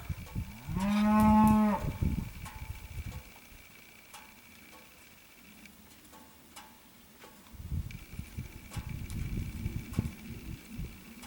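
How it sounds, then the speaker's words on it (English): A single loud, drawn-out cow moo rings out nearby in a barn on a hot hay day, followed by quieter ticking, rustling and shuffling livestock noise, with no speech. "It's pretty bad when Woolie's the first cow in here, isn't it?"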